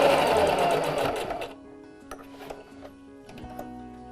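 A sewing machine stitches a homemade fabric face mask in a rapid whirring burst, then stops, leaving a few faint clicks and ticks.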